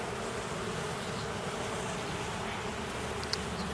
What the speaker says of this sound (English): Those are worker bees in there.